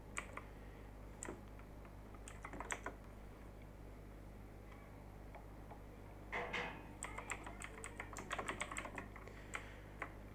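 Keystrokes tap on a computer keyboard while TypeScript code is being typed, quiet scattered clicks in short bursts, busiest near the end, with no talking.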